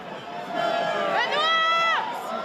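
A large outdoor crowd at a Bastogne commemoration of the Battle of the Ardennes shouts and cheers during the nut throw, with several voices rising together in a loud, sustained call that swells and fades.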